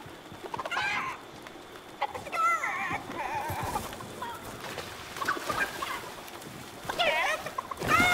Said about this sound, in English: Get over here, chicken.